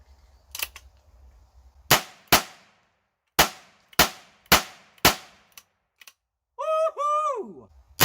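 A Heritage Rough Rider Rancher .22 LR revolver carbine fires six sharp, close cracks at uneven intervals, each followed by a short ringing decay. A loud shout comes right after the last shot.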